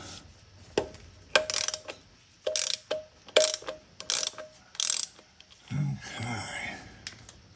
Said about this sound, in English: Time to get the filter off.